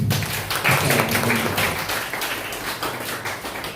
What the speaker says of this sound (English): give a round of applause for the